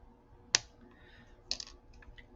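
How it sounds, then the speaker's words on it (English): Small wire cutters snipping off excess jewelry wire: two faint, sharp clicks about a second apart, close and quiet, with nothing else around them. "Cut off your excess wire."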